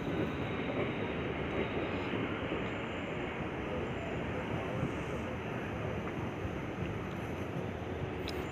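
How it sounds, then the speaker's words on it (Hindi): The Howrah Express train pulls out of Najibabad railway station with a dense, steady roar of rolling wheels and carriages that holds even and fairly loud throughout. "नजीबाबाद रेलवे स्टेशन का डिपार्चर।"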